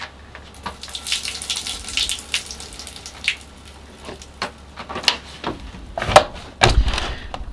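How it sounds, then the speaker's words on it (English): Excess water is tipped out of a seed tray of compost, giving close, uneven splashes and trickles with small knocks of the tray, a few sharper spills toward the end. "There's a bit of extra moist water in there, so I'm just going to pour that away."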